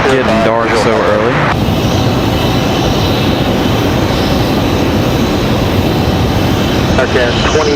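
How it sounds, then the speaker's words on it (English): American Airlines Airbus A320-200 departing Raleigh-Durham airport, a loud steady jet engine roar that fills the whole stretch, with brief bursts of radio voice chatter at the start and end. "American 2851 headed to Philadelphia. That was about A320 200."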